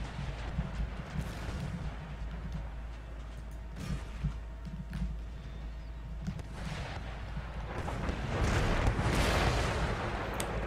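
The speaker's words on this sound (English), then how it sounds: "More brilliant shooting from the artillery, taking out approximately 50." Artillery fire in the Empire Total War strategy game: repeated deep booms and cannon blasts over a rumbling battlefield bed, with a louder, denser volley of fire building near the end.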